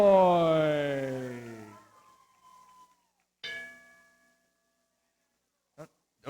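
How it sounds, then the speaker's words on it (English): A boxing match bell rings out loudly and slowly fades, followed by two shorter, sharper strikes a few seconds apart. "I'm not used to ringing the bell"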